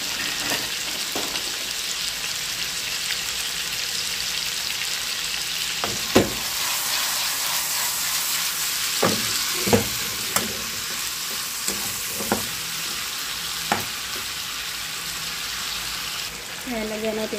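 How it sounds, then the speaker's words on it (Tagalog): Sugar caramelizing in a pan on the stove, a steady loud sizzle with occasional scraping clicks of a stirring utensil across the pan's surface. "So, caramelize natin yan hanggang sa makuha natin ang color na brown."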